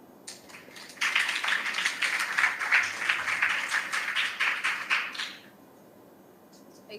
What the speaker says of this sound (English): Yes, let's give them a clap. Let's clap for them.